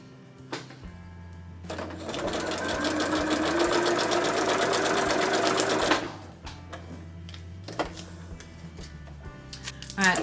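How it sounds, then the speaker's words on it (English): A sewing machine stitches the fabric edge of a small advent calendar bag, running in a steady close mechanical whir for several seconds, framed by clicks and handling noises. "you're now going to sew one of those edges as well"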